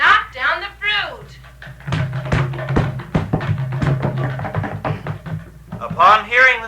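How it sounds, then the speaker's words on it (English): Fruit knocked loose from shaken trees drops and thuds in a rapid scatter of knocks and taps, fairly close, while a voice talks over the start and end. "Upon hearing the sound of the falling fruit, Dhanukasura rushed towards Balaram"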